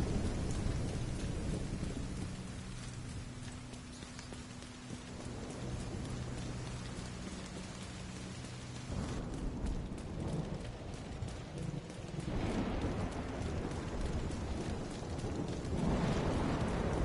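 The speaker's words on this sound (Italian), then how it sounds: "Piove." Steady rain with rolling thunder in The Division 2, a continuous wash of rainfall with deep rumbles swelling and fading over the full stretch, no voices.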